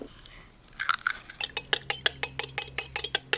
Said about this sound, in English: Put an egg in a separate bowl and whisk it.